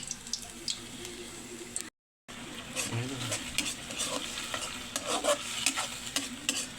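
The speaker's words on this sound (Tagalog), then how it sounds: "Gigisa po ako ng bawang idol at saka luya. Gigisa natin idol yung sardinas idol." Garlic, ginger and sardines sautéing in a pan: a low sizzle with scraping stirs and faint clinks, briefly cut to silence, then more stirring and sizzling close by.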